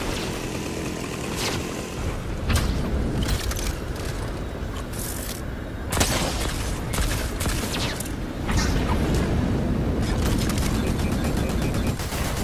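Gunfire in Fortnite, with rapid, loud bursts of shots in quick succession and short gaps between volleys.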